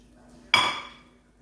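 A single bright clattering clink as a scraper works a honey oat ciabatta loaf loose and it drops into an oiled metal pan, short and close, fading over about half a second, with a faint background hum.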